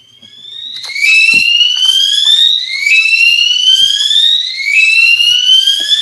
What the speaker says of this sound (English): There is a alarm sound behind.